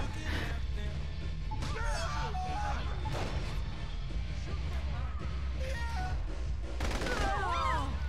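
Gunfire in Saints Row: The Third Remastered, dense rattling shots and bursts over constant game noise, with chirpy squeals and crashes scattered through and voices briefly heard.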